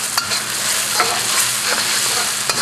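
Sambal and aromatics fry in a wok of hot oil, giving a close, steady sizzle broken by scraping stirring strokes and occasional sharp pops.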